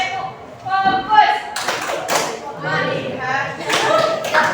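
Classroom of students doing a rhythmic group clapping routine, sharp claps in short bursts mixed with a teacher's voice and children chanting along.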